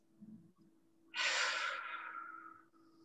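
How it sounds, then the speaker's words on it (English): A single long, audible exhale during a yoga class stretch, a breathy rush of air starting abruptly and fading over about a second and a half, close and fairly quiet. "Deep breaths."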